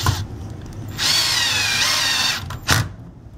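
A power drill drives a number 8 three-quarter-inch screw into wood on a horse bow kit, with a short whirring burst of about a second and a half, then a brief second spin, heard close and alone.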